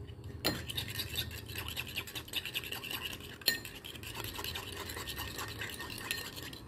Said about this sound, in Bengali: তো এটাকে খুব ভালো করে মিক্স করে নেব।